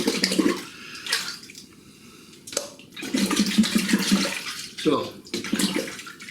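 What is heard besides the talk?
water running in sink while rinsing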